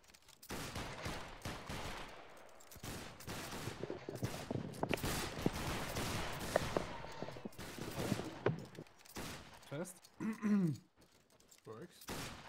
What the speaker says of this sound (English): Good shooting, good shooting.